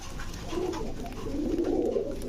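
Pigeons in a coop of fancy breeds like kaldom, golla, gorra and military birds coo in low, throaty, overlapping calls that run continuously at close range, with no talking.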